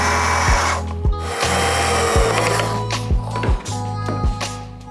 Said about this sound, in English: I just need to screw it on each side with these really cute little black screws that I found